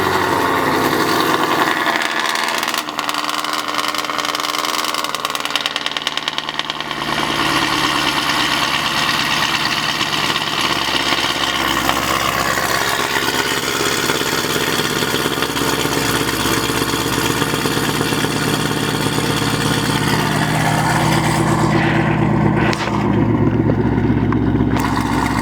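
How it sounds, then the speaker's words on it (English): A stock LT1 V8 in a 2019 Chevrolet Camaro SS idles after a cold start, a loud, steady, rumbling drone that holds throughout with slight shifts in pitch and no talk. "So that was the last cold start with the stock cam and stock heads on this on the stock LT1 motor."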